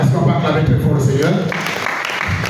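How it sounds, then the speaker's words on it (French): A church congregation claps and cheers in praise of the Lord, a dense, steady wash of applause filling the room, with a voice rising over it midway. "est-ce qu'on peut acclamer très fort le Seigneur?"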